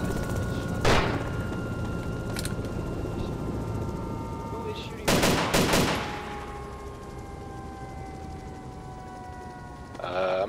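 Scattered gunshots in DayZ during a sniper battle over Cherno, a few sharp reports and a quick double burst at a distance, amid steady ambient hum while players talk.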